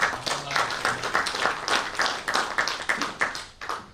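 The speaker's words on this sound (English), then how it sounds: "So let's give them a big round of applause." An audience at a US–India relations event applauds honored guests, producing close, uneven bursts of clapping that swell and dip in waves before thinning out at the end.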